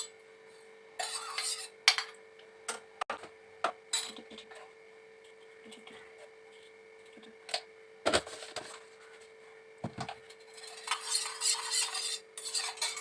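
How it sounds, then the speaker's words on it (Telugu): A spoon stirring a child's milk in a cup or glass, with scattered clinks and scrapes coming in short bursts over a quiet room, some louder knocks near the middle and a busier patch of stirring toward the end. "సో ఫస్ట్ వాడి పాలు కలిపేసి పెట్టేద్దాం."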